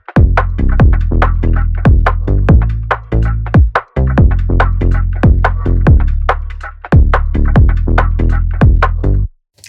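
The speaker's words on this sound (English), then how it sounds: "Then I added some hi-hats, a kick and a snare just to give it that extra bounce." A punchy programmed hip-hop beat with booming kicks, crisp snares and busy hi-hats, bouncing in a steady loop with two brief dropouts, loud and alone without any talk.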